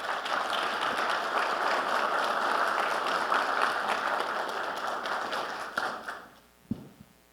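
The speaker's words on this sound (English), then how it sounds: "give me the great round of applause to Mark Thomas, who's Managing Director at Accenture" An audience at an executive AI conference session claps for an arriving speaker. The sustained, dense applause fills the room for about six seconds, then fades out, followed by a few soft thumps.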